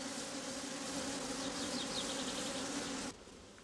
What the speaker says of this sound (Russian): рабочие пчелы, струшенные перед литком, возвращаются обратно в улей